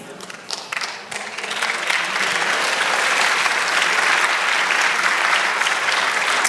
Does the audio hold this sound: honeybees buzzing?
no